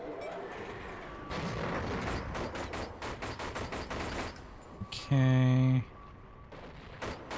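Gunfire in the 007 Agent Under Fire video game, Poseidon mission: rapid volleys of shots rattle off in quick succession for several seconds, with a brief electronic tone near the end and a single short spoken word over it.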